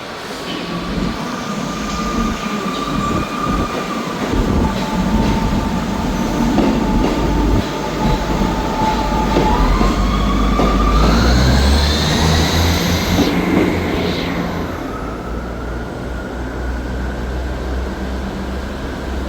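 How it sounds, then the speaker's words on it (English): Class 158 diesel unit 158713 pulls out of Dundee station as an empty stock move, engine growl building loud and close, wheels clattering and squealing as it draws away and fades. "Departing out now is 158713 on an ECS."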